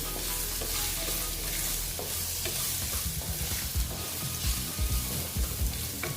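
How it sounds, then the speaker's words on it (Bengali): Turmeric frying in a hot pan with other spices while being stirred for a vegetarian Bengali ash gourd dish, a steady close sizzle broken by scraping, clattering stirs in the second half, no talking. "তারপরে দিয়ে দিচ্ছি আমি হলুদ দিয়ে আমি একটু ভেজে নিচ্ছি"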